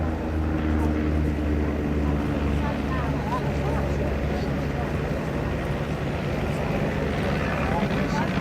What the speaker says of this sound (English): The de Havilland Canada Chipmunk Jack's displaying for us here today is a perfect example of the basic trainer